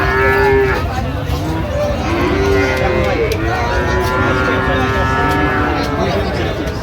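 Sahiwal bulls at a cattle market in Dinajpur, Bangladesh, lowing in several long drawn moos that overlap, close and loud over a busy crowd with people talking in the background.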